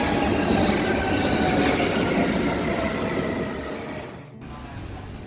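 A German U-Bahn subway train rumbles steadily along the rails with a faint metallic whine, fading slightly before a brief dip near the end.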